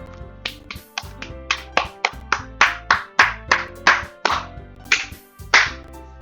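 Applause in the visual novel game Doki Doki Literature Club: a small group claps in a light, slightly uneven rhythm, a dozen or so crisp, distinct hand claps against a soft background music bed, no talk.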